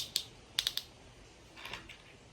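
Plastic Lego pieces snapping together during a Ninjago mech dragon build: a few sharp, close clicks, one single then a quick triple, followed by softer rattling handling noise.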